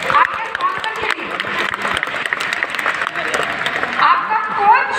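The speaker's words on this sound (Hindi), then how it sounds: "सर ताली आपके कोच के लिए, आपके स्पॉन्सर के लिए।" Indoor audience at a Herbalife training event clapping for coaches and sponsors, a dense steady patter of many hands with scattered cheers, loud and close throughout, with some talk mixed in.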